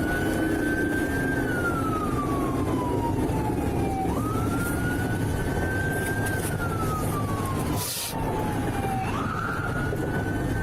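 Private EMS ambulance rolling out with its siren wailing in long rising and falling sweeps, loud and close over steady traffic rumble, with a brief dip near the end.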